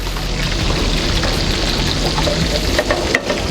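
Food browns in oil in a frying pan, a dense, loud, continuous sizzle and crackle with occasional sharper pops, with no voices.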